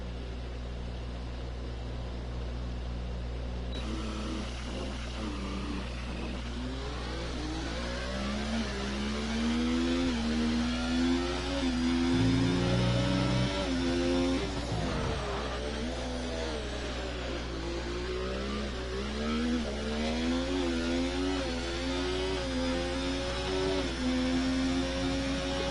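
A race car's engine revs steadily and shifts pitch through gear changes on the COTA circuit in a racing game, loud and continuous with rising and falling sweeps and a brief dip mid-run.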